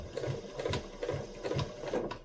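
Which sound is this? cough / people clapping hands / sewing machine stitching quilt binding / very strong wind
sewing machine stitching quilt binding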